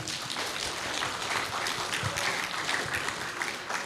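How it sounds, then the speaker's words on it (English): Conference audience at an international graduate students and scholars' conference in Indonesia applauds steadily for about four seconds, a dense, even patter of many hands that fills the room with no voices over it. "Please give a round of applause for them."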